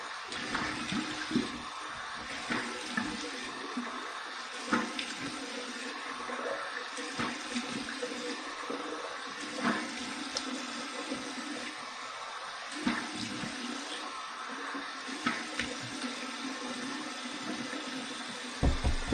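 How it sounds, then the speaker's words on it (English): Cold water runs from a tap for a shaving rinse, a steady hissing splash that continues throughout with occasional louder splashes and clatter. "here's my cold water rinse"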